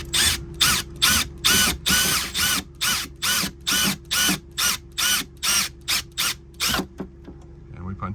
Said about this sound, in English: we're going to start drilling until we feel it push through